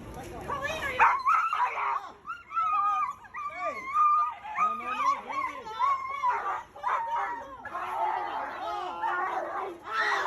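A dog tied in a garage whimpers, yelps and howls continuously in high, wavering cries while being attacked by a pit bull, loud and close, with frantic shouting voices mixed in throughout.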